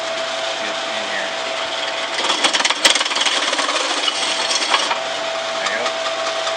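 A power drill with a jamming, dulling bit cuts holes in a drum, giving a loud, steady motor whine with rough grinding and knocking bursts in the middle as the bit catches.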